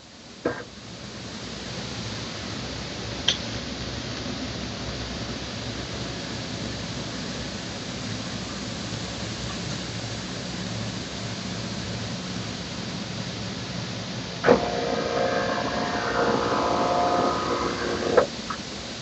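An HP DeskJet 2800-series printer's flatbed scanner scans a page, giving a steady, even mechanical whir that runs for most of the pass, with a few faint clicks and a louder stretch near the end.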